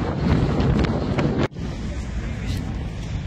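Strong wind buffets the microphone on the coast at Nazaré, a loud, roaring, gusty rumble with a brief drop in the middle, and surf may sit underneath.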